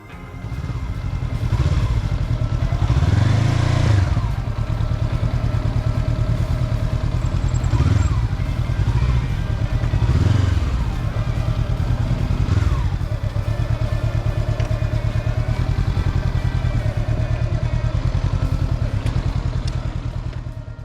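Honda CBR500 Hornet motorcycle ridden through a training exercise, continuous close engine drone with several brief revving surges and wind noise, no talking.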